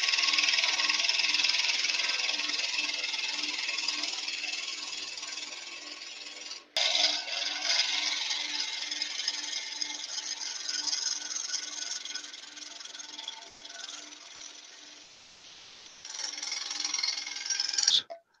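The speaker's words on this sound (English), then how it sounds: "I'm going to use the skew on its side and just open up" Skew chisel laid on its side scraping wider a hole in a wood bud vase spinning on a lathe, a steady close rasping hiss that runs nearly the whole time with one brief break and a loud final burst.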